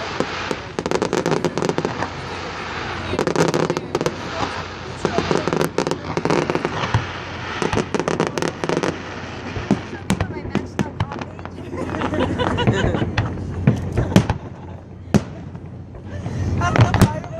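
Fireworks bursting over San Francisco on the Fourth of July, a loud, dense run of sharp booms and crackling pops that stays near-continuous throughout, with people's voices mixed in among the blasts.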